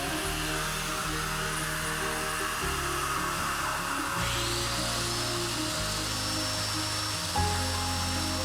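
Power tool cutting mortises into wooden legs for tractor-seat stools, a steady loud motor drone running the whole time with shifting pitch as it works through the wood, no talking.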